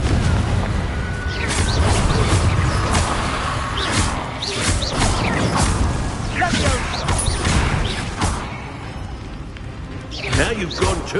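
Repeated fire-spell explosions in the Hogwarts Legacy video game, sharp booming bursts recurring every second or so over a dense, busy game soundscape with chatter mixed in.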